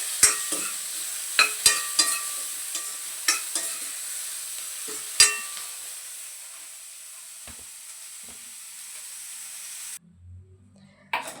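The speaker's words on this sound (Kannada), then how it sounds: "ಎಣ್ಣೆ ಹಾಕ್ಬಿಟ್ಟು ಫ್ರೈ ಮಾಡ್ಕೊತಾ ಇದ್ದೀನಿ" Masala frying in oil in a kadai: soft sizzling with sharp scrapes and clacks of stirring, busier early then thinning out, ending in near silence with a brief low clatter.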